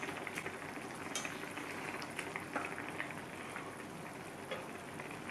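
Eggs frying in a pan at home, giving a steady close sizzle with scattered light pops and clinks throughout, no talk.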